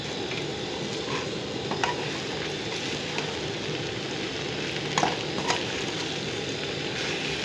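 Okra and potatoes with crushed red chilli stir-fry in a pan with a steady, close sizzle, broken by a few faint scrapes and clinks as the mix is stirred; no one speaks.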